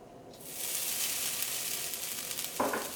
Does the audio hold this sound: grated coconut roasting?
yes